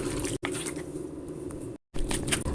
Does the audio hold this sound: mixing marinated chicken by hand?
yes